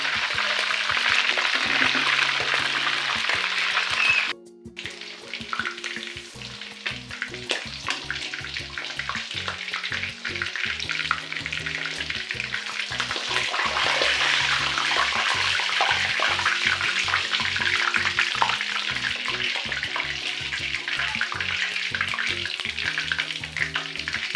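Loud, continuous sizzling of duck pieces frying in hot oil until golden and crispy, with occasional stirring clatter and a brief dropout early on.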